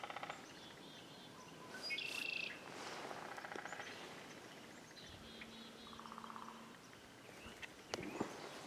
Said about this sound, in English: Just me and the birds out here right now.